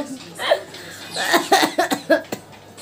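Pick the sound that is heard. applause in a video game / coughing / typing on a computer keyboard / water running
coughing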